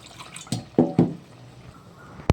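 Water poured into a pot of raw papaya and cooked lentils for sambar, heard as a few short splashing drips and pours with a sharp final splash, close and isolated.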